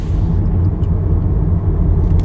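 A 2019 Honda Accord 2.0T Touring sedan drives along with a steady low engine and road rumble, constant and fairly loud, with no voices.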